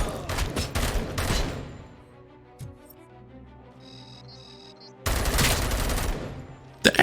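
Rapid bursts from an SMG in Robocop: Rogue City, a loud rattling volley at the start and another near the end, separated by a quieter stretch of ambient game sound.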